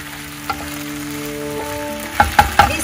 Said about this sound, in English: at this point, we add the pasta in